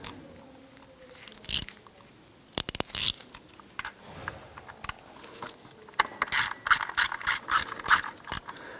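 A hand ratchet tightens power steering pressure line fittings on a 2005-2007 Ford Five Hundred, quick bursts of sharp clicking with pauses, the clicks bunching into a rapid run toward the end.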